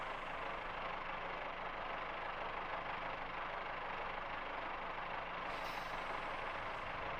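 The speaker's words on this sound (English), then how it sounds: "those brakes came off very nicely" Train brakes release in a rail simulator game on the Riviera Line, a loud, continuous rushing hiss of air that holds steady throughout and comes without any talk.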